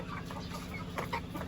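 Chickens cluck softly amid a steady low background hum, with a few brief louder clucks near the end.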